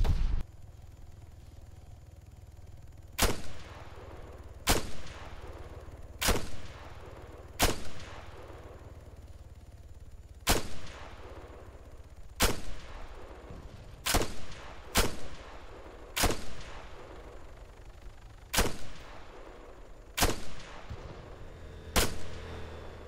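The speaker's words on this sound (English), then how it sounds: "Oh my god, I got sniped again." Sniper rifle fire in the video game Arma 3 rings out as about a dozen sharp, echoing single shots spaced a second or two apart, sounding fairly distant over a low ambient hum, with no talking.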